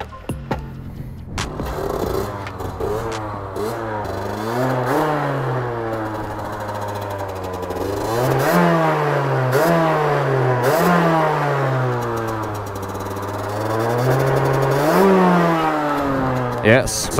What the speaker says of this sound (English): Yes, some nice revs.